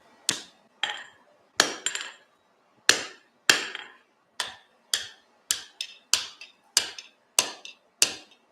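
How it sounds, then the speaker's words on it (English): Hammer blows forge welding folded steel, around sixteen sharp metallic strikes in an uneven rhythm, each ringing briefly, close and clear, with quiet gaps between and no talking. "then forge weld that"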